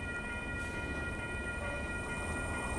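The Amtrak Coast Starlight passenger train with a Charger locomotive passing slowly at 98th Avenue in Oakland on a rainy day, a steady rolling rumble with faint high squealing tones, no talking.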